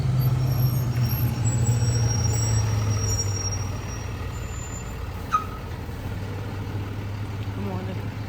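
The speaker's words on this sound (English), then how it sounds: "We just waiting on the school bus right now." A school bus idles close by with a steady low engine rumble, and a sharp air-brake hiss sounds briefly partway through over a morning outdoor background.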